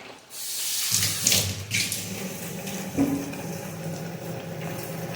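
Water pours from a vessel onto spice masala in a pan, a continuous close splashing and trickling wash that holds steady for several seconds.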